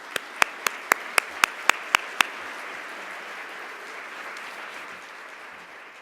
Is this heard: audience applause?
yes